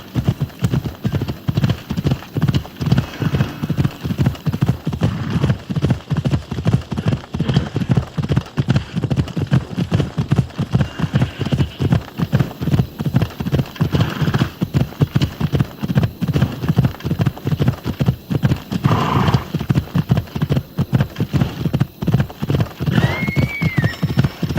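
Phobos the horse gallops in Assassin's Creed Odyssey: a steady, fast clip-clop of hooves runs close and loud for the whole stretch, with a whinny breaking through near the end.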